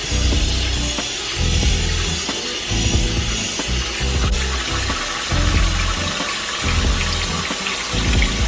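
Water runs steadily from a kitchen tap while fresh produce is rinsed under it, a continuous close splashing hiss with small irregular bumps from handling, no voices.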